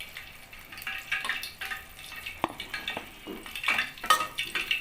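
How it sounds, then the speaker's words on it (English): Water is poured into a pot of steamed chicken, with soft splashing and light clinks of metal cookware in an irregular, close-up patter and no talk. "So I'm just going to introduce just a little bit of water."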